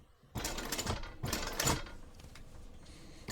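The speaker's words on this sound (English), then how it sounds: "now baste my slip pocket onto my panel using a 1/8 inch seam allowance" A sewing machine bastes a slip pocket onto a vinyl backpack panel with a 1/8 inch seam allowance, in two short bursts of close mechanical stitching followed by a quieter low hum.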